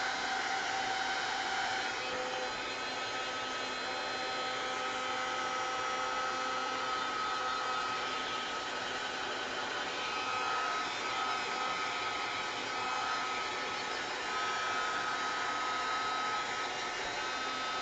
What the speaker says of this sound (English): Hope you can hear me over the heat tool.